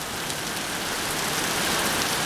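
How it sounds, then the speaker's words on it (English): Heavy rain pours down during a Texas storm, a dense, even roar of drops hitting surfaces close by, steady throughout with no voices. "So we need the rain in Texas."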